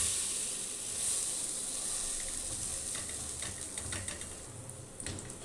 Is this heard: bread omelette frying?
yes